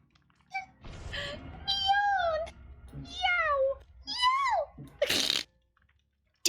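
Several high, wavering meow-like screams from a Dead by Daylight game, close and fairly loud with short pauses between them, ending in a noisy sneeze-like burst.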